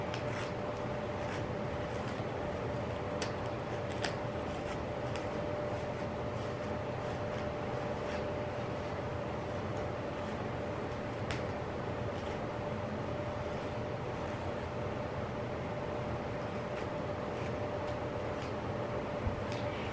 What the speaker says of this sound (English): If y'all can hear that sound in the background, I have a fan right here